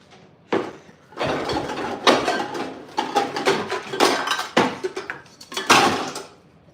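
A cooking pot for boiling meat being handled, with a series of loud, close metallic clanks, knocks and scrapes in irregular bursts and short pauses between them.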